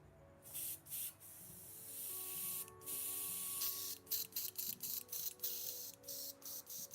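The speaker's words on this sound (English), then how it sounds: "I'm just going to run a teeny bit of airbrush cleaner through my airbrush to make sure it's spraying nice." An airbrush spraying cleaner through the nozzle in short repeated hissing bursts, soft and close, with faint background hum between bursts.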